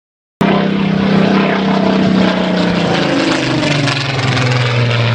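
Loud, steady drone of a Lancaster bomber's large piston propeller engines at the Dunsfold air show, a deep throbbing roar that starts abruptly and holds close and powerful throughout.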